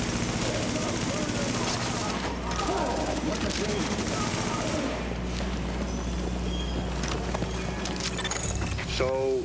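Steady rattling gunfire runs through a firefight in The Division, with bursts layered over a constant low rumble and background din, fairly loud throughout.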